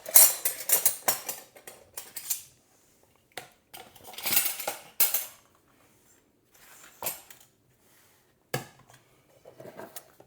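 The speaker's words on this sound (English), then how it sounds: "I love this knife, and I will cut some julian apple." Kitchen knife slicing a crisp, freshly washed Envy apple into julienne strips on a board: bursts of quick crunchy cuts and knocks, with a few isolated chops and pauses between, close and fairly clear.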